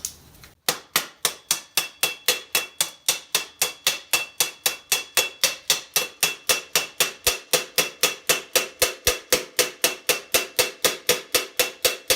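A steady series of sharp metallic hammer blows drives a rivet onto a small steel eyelet for a suit of armor, about four strikes per second, close and loud, with no talk.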